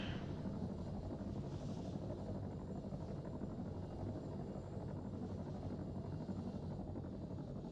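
A helicopter's steady rotor drone and engine hum fill the scene continuously at an even, moderate level in the video game ARMA 3.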